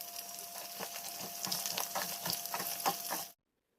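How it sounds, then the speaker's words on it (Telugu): Ground masala and chilli powder fry in oil for a boneless chicken pickle, giving a close, even sizzle with repeated stirring scrapes that stops abruptly just before the end. "మసాలా మొత్తం యాడ్ చేసుకొని 5 to 10 మినిట్స్ ఇలా ఆయిల్లో ఫ్రై చేసుకోవాలి"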